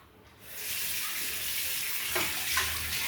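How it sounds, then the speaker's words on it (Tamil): Water starts splashing and pouring after a short quiet moment as a clay cooking pot gets washed, a steady nearby rush with small clinks near the end, and no voices. "மண்ணக்கண்டி சட்டத்தை கழுவிட்டு போடுறதாமாங்க. கழுவிக்கலாம்."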